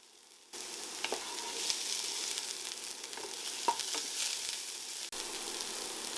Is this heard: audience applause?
no